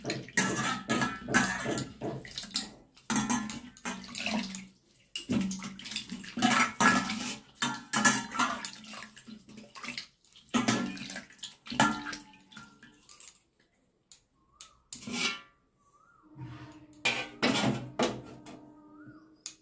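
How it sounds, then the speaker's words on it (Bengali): Hands and feet being washed with cumin-steeped water in a home setting, with repeated close splashes and trickles in short bursts separated by pauses. "সেটা দিয়ে হাত পাটা ধুয়ে নেবে।"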